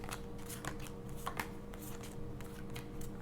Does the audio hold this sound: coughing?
no